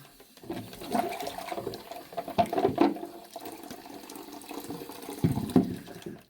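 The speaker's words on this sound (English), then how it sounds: "Drain my sink that I didn't know I needed to drain" Water drains from a bathroom sink after soapy makeup brushes are rinsed and swirled in it, giving a steady run of gurgling and sloshing with a few louder glugs near the middle and end. No one speaks.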